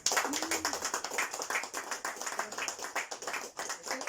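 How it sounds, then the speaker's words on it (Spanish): Applause breaks out at a Spanish-language religious study gathering on grace and apostleship, a dense patter of claps from a small group close by, with a brief voice murmuring underneath. "Esto merece un aplauso, hermano."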